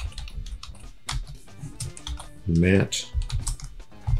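Keys clack on a computer keyboard in short, uneven bursts as a command is typed in Maya software, while a brief spoken word cuts in partway through.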